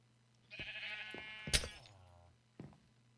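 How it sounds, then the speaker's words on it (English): Several sheep bleats from colored sheep in Minecraft creative mode, close and clear, with a short final bleat after a pause. "So now we've got many colored sheep sitting out here"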